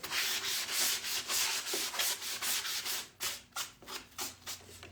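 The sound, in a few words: sanding a wooden chair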